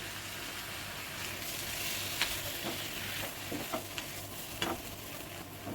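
Roasted okra tossed and fried in an iron kadhai with onion-coconut masala, giving a steady sizzle with occasional scraping stir strokes, close and moderately loud, with no talking.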